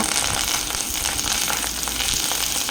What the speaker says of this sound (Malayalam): ജസ്റ്റ് ഒന്ന് എണ്ണയിലിട്ടെടുത്താൽ മതി പിന്നെ ഇത്തിരി കരുവേപ്പിൻ്റെ ഇല